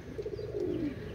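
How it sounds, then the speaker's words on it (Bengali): A pigeon cooing close by, a soft, low, rolling coo lasting about a second, alone and fairly faint. "দেখেন ভিউয়ার্স অসাধারণ কবুতর।"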